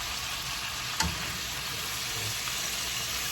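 Chicken sears in a hot pan with a steady, close sizzling hiss throughout, interrupted once by a brief clink or stir.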